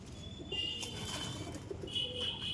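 Pigeons in a loft coo softly and rustle nearby, with faint chirps and a brief flutter of wings over a quiet background.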